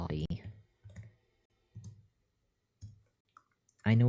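Keyboard keys clicking in short bursts while code is typed out, with someone talking between and over the taps.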